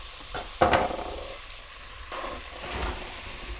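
Diced onion hits a pan of browned sausage and bacon, setting off a sudden loud sizzle with a sharp burst near the start, then a steady fry with stirring scrapes close by.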